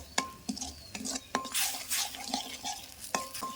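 Spoon stirring tomato chutney with salt and sugar in a pan, a series of close, crisp scraping clinks against the metal at an uneven steady rhythm, with a faint sizzle underneath.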